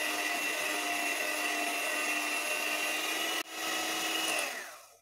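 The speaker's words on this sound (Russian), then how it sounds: "Сначала взбиваем на низких оборотах, так как шоколадная паста густая." Electric mixer whipping thick chocolate paste at low speed, a steady close whir that cuts out abruptly, restarts briefly and winds down to a stop.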